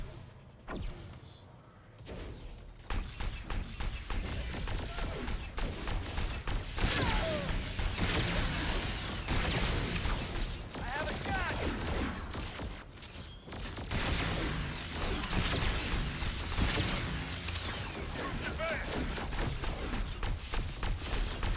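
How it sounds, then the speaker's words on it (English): Automated turret firing in the video game Agents of Mayhem, loud sustained bursts of rapid gunfire with mechanical clatter and crashes, going on almost without pause after a quieter start. "Just gonna let the turret handle the job, like literally."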